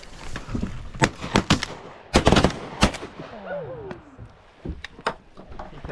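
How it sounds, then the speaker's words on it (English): Shotguns fire at ducks during a duck hunt on the water, with a quick volley of sharp, loud blasts from several hunters in close succession, then a few scattered shots, and quacking or calls in between. "I think I missed with my first, but second one I think I got, but we all shot."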